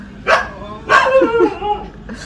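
A dog gives two or three sharp, close barks with a whiny edge, separated by brief pauses.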